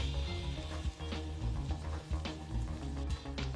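Curry leaves and capsicum fry in a hot pan for a mutton pepper masala, giving a steady, close sizzle that crackles on without a break and with no voices.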